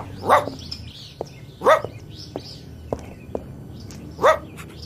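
Dogs bark in greeting: three sharp, nearby barks spaced out over several seconds, with soft clicks and rustles between them.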